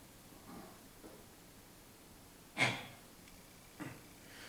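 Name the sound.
performer imitating snoring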